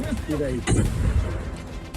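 A shouted command gives way to a single heavy, booming blast from an artillery gun firing at a special forces anniversary demonstration, followed by a rumbling tail.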